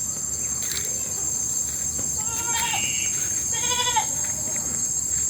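Goats bleating in a goat pen at a school, a few wavering calls over a steady background of chirping insects.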